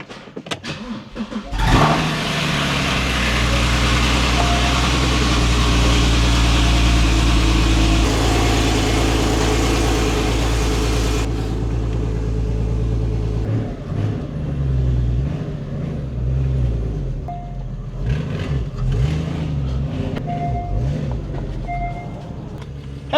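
A Porsche GT4 engine cranks and fires, then roars loudly at a high steady idle before settling into a lower, uneven idle with small revs and a slight exhaust leak, heard close up.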